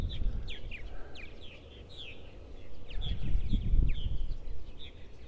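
A gathering flock of purple martins calls with repeated high chirps and warbles, many overlapping birds at moderate distance over low rumbling background noise.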